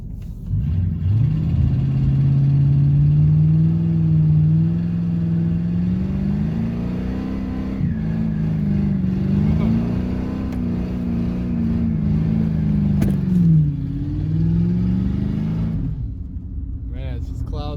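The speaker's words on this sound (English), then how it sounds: "Let's see once if it can even do a burnout." A car with an improperly fixed exhaust revs hard and holds a loud, droning engine note for a long stretch during a burnout attempt, pitch wavering as the throttle shifts.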